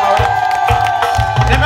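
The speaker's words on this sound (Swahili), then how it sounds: "Nipigieni makofi mengi na vigeregere kijana wetu." Crowd at a Gombero community gathering celebrating a newly graded road claps loudly and steadily, with cheers and rising ululation woven through the dense, close applause.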